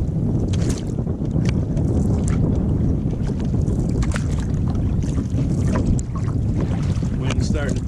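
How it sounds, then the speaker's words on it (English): Strong wind roars and buffets the microphone while canoeing toward the entrance of Stanton Bay, a steady loud rushing with faint water sounds beneath it throughout. "Wind's starting to pick up."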